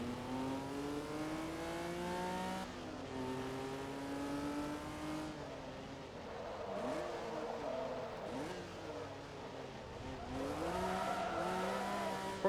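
An all-wheel drive rally car racing in a video game, its engine revving up and down through gear changes, with repeated rising and falling pitch sweeps and occasional tire noise, continuous and fairly close.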